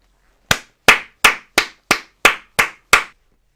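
Eight sharp, evenly spaced hand claps ring out one after another in a steady rhythm, close and loud, with silence between them.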